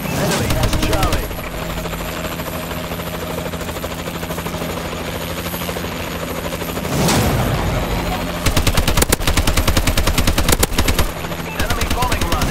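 Warbird aircraft in Call of Duty Advanced Warfare: a loud, steady helicopter-like rotor drone with rapid machine-gun bursts cutting in near the end, amid dense battle noise.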